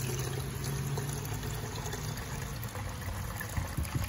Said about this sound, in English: And then put some more water into it, so our watering can is full to the top.